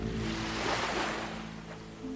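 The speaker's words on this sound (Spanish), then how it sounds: "Sigue el sonido del mar." Sea waves wash in a broad, continuous roar of surf that swells and slowly recedes, steady and fairly loud with no voices over it.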